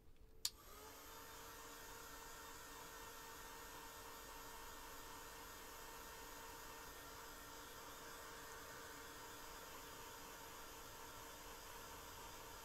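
A hair dryer switches on with a click and then blows a steady, even whoosh for over ten seconds while drying a fairy penguin's donut floatie, with no voices.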